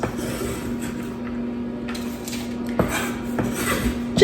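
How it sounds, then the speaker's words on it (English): Ingredients tipped into a bowl of oats for granola bars, giving a steady scraping, rustling clatter with a few louder knocks near the end, close and fairly loud, no talking. "We're gonna just dump these in here with our oats."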